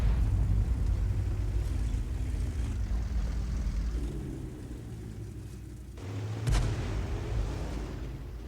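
A self-propelled SU-14-2 artillery piece firing in World of Tanks: a steady, heavy engine rumble runs throughout, broken near the end by a single sharp, booming shot.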